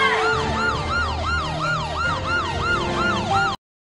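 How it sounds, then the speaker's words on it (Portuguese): A police siren wails in a fast, continuous up-and-down sweep, loud and steady, before cutting off abruptly. "essa sirene da polícia"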